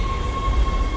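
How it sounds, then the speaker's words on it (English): A tram in the Dead Space sci-fi game rumbles into a station, a steady low mechanical drone with a sustained high whine over it, heard alone with no speech. "Tram arriving at flight deck station."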